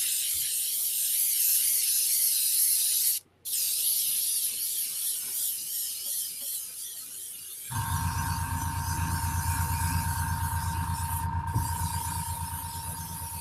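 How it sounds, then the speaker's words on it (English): A paint spray gun hisses steadily and close while spraying ZM tiles, with one brief cutoff partway. A louder compressor-like hum cuts in and runs under the hiss to the end. "We're going to spray the whole damn thing."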